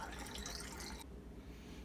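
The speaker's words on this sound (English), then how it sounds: "we are going to give it a little rinse. This is just plain cold water." Plain cold water rinses a film developing tank, a brief, faint hiss of running liquid that cuts off after about a second.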